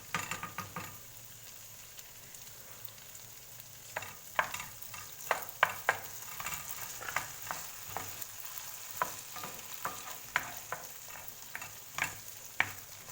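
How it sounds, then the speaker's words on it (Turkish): Potatoes for an omelette fry in a pan with a faint steady sizzle, then a run of quick light scraping and clicking stirs that continues to the end. The sound is close but soft, with no speech. "Bakın patatesimiz kızarıyor."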